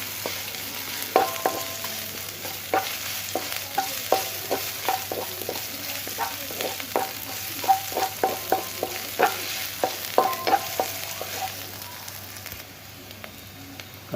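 Sliced onions stir-fried in a pan for a Japanese beef rice bowl: a steady sizzle runs throughout, broken by repeated clicks and scrapes of a utensil stirring against the pan, close and fairly loud, with no talking.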